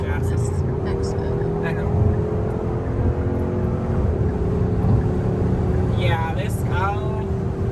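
A Hyundai Sonata N Line's engine drones steadily from inside the cabin as the car accelerates, a low continuous hum under brief talk from the driver.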